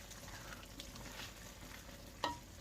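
Nigerian egusi stew with ugu is stirred in a pot, a soft continuous sizzle and gentle scraping close by, with one brief sharp clink of the spoon near the end, with no talk.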